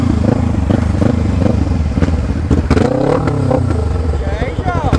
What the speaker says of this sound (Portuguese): Motinha barulhenta, hein, Rabicó?